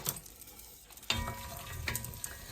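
Chopped celery, onions and carrots sizzle and get stirred in a soup pot for mushroom soup, a soft steady frying hiss with occasional scraping stir clicks, close and quiet.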